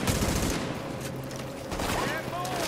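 Bursts of rapid gunfire in the online shooter The Division, crackling steadily through the scene with overlapping shots at mid distance, while players talk over the action.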